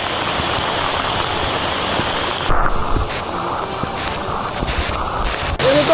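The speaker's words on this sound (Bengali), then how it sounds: "দেখেন সামনে ঝুম বৃষ্টি" Heavy downpour in the Bandarban hills, a dense steady hiss of rain falling on surfaces, loud and close, continuing without a break and with no talk.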